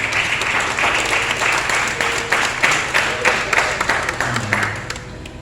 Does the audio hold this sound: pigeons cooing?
no